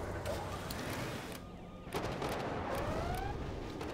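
Bunkers in Command and Conquer Generals Zero Hour open fire in a dense, continuous clatter of gunshots and battle noise, steady and fairly faint throughout with no speech.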